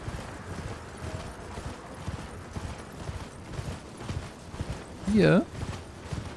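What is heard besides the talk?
horse hooves while riding along a wall, from video game Elden Ring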